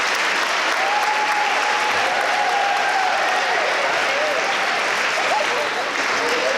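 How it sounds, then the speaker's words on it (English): Loud, sustained applause from a large high school audience, dense clapping with a few cheers scattered through, continuing steadily the whole time. "Please give them another round of applause for Ms. Pierce."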